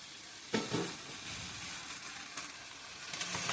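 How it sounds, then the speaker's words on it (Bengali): A fish head drops into hot oil with sautéed vegetables, giving a close, steady sizzle and fry with a few louder bursts of crackle and stirring scrapes. "কষানো হওয়ার পরে মাছের মাথাটা ছেড়ে দিচ্ছি।"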